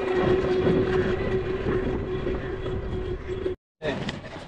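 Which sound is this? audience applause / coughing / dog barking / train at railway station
train at railway station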